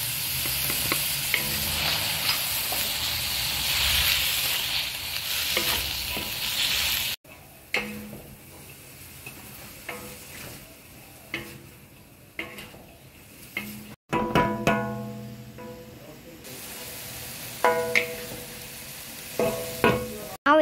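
Big bean sprouts and black fungus are stir-fried in a hot wok with a loud rushing sizzle and repeated spatula scrapes and clanks. The hiss cuts out sharply twice and then comes back.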